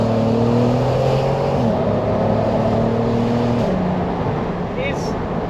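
An Audi TT Mk1 V6 engine drones and revs from inside the car through a non-resonated exhaust pipe, its pitch stepping up through gear changes, with wind noise around it.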